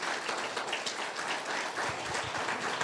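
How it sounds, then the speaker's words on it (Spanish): A church congregation gives a round of applause for a pastor, an Assemblies of God minister in Tabasco, steady moderate clapping heard from a distance in a reverberant room. "Entonces vamos a darle un fuerte aplauso al pastor Ricardo Sánchez"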